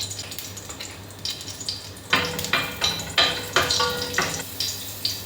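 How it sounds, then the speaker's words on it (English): Whole spices and sweet chili hit hot oil in a pot, giving a close, bright sizzle. It flares in repeated bursts as the ingredients are stirred and added, over a faint steady hum. "In another pot, heat some oil, add whole spices,"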